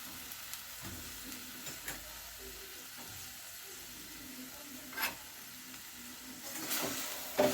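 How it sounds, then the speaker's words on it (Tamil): Quiet, steady sizzling of broccoli stems sautéing in a spoonful of oil, with occasional stirring scrapes and clinks, close and continuous with no talking. "அதை வதக்கிறதுக்கு நல்லா 1 ஸ்பூன் எண்ணெய் சேர்த்து வதக்கிக்கிறோம்"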